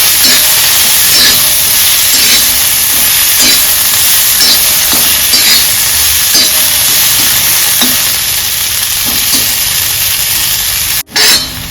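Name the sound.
filling roasting on a hot griddle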